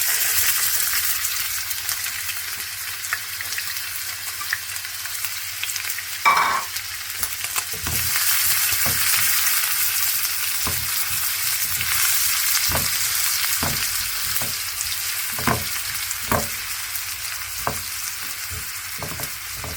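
Finely chopped medium onion frying in a pan of potato curry, a steady hiss with intermittent soft scrapes and clicks of stirring throughout, and a brief louder clatter early on.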